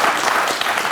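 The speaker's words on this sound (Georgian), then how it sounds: "აპლოდისმენტები ბავშვებს." An audience in a TV comedy show studio applauds children: a brief, dense burst of many hands clapping at once, loud and close, with no voices over it.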